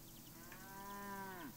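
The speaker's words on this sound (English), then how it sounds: "a large cow looking up at me" A single long, low cow moo from the exploration game Curious Expedition 2, a drawn-out tonal call that bends downward at the end, faint and heard alone.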